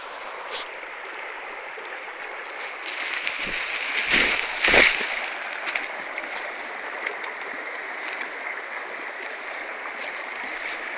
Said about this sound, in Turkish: Siz sadece suyu dinleyin.